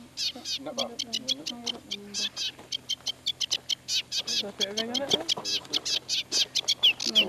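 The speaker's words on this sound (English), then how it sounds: "Sedge warbler." A sedge warbler held in the hand during ringing gives rapid, harsh chattering calls at close range, repeated in quick bursts throughout while people talk nearby.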